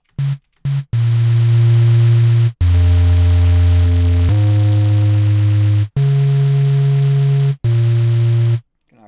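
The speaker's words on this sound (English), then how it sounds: "now that I have white noise and the nice little sub going on there" Synthesized white noise layered over a deep sub bass in a future riddim production plays as loud, sustained electronic tones that switch pitch in blocks, cut by sharp, brief gaps of silence.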